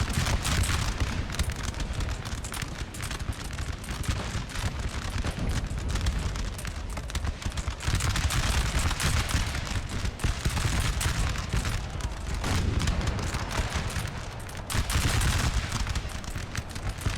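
Dense, continuous musket volleys and booming artillery from a Napoleon: Total War battle pour out for the whole stretch, a steady crackling roar with heavier thuds rising and falling, and no one speaks.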